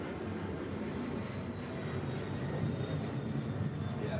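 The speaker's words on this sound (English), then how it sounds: "Hey, that's a plane." A propeller-type airplane passes overhead as a steady low engine drone, holding at even loudness, with a faint rise near the end, and no one talking.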